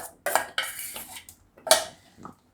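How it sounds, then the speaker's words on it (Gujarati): A spoon stirs food in a metal pot, making several sharp clinks and scrapes in quick uneven bursts, close and fairly loud. "આને આપણે આમાં મિક્સ કરી લેવું."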